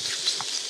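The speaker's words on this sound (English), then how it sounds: "We really want to sear it really quickly and lock in all those juices and flavour" Beef strips hit a hot pan and sear with a steady broadband sizzle, a short stretch of close, even frying hiss with a small pop partway through.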